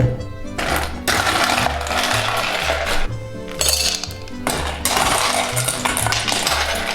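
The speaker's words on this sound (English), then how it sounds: "We're gonna put a scoop of ice in there." Ice cubes rattle and clatter as a scoop is dropped into a metal cocktail shaker tin for a margarita, with a couple of bright, crashing bursts over a steady rhythmic music bed.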